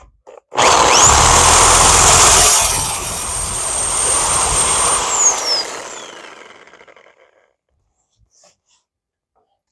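A budget power tool fitted with a metal-cutting blade slices through thin sheet metal, a loud continuous whine that surges at the start, holds steady for several seconds, then winds down and stops.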